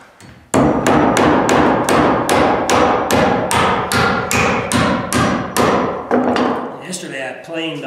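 Hammer blows drive nails through a concrete spike used as a nail set while laying loft flooring in a timber frame home, about fourteen loud, evenly spaced strikes close by, each ringing briefly before the next.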